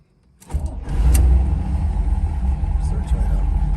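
A 1972 Chevrolet Camaro Z28 cranks and fires after a brief near-silence, settling into a loud, steady, rumbling idle close by.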